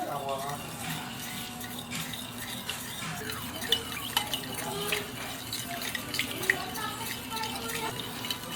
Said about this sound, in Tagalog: So, haluin po natin. Halo-halo lang po hanggang well blended na po siya.